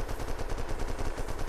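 Rapid automatic gunfire from the video game Unturned, a steady stream of close, loud shots in an even rhythm filling the whole moment.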